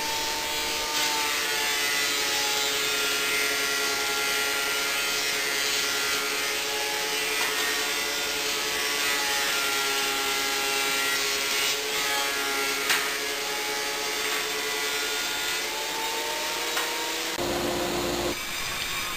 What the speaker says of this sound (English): I run them all through the thickness planer just to make sure they're all smooth and of consistent thickness.